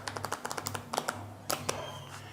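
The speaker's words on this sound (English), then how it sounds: "We're going to shuffle these cards face up into face down." Rapid riffling taps of playing cards being shuffled, a quick flurry of light clicks followed by a few sharper snaps.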